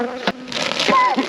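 Honey bees hum and buzz around an open hive during a beekeeper's spring inspection, a close, busy drone with individual bees darting past, over a short stretch with no speech.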